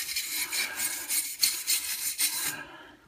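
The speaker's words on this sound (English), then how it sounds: "cleaning this stuff off as best I can with the bristle brush" A brass bristle brush scrubs dirt off a filthy metal piece in rhythmic back-and-forth strokes, close and raspy, about a dozen scrubbing passes before it stops and fades.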